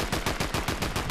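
Rapid automatic fire from a drum gun in Fortnite, here the gold Midas mythic version, rattling off about ten quick, evenly spaced shots in a loud, continuous burst.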